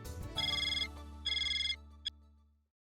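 A telephone rings as a call is placed, two bursts of an electronic trill-like ring separated by a short pause, followed by a brief click, clear and fairly close in a quiet room.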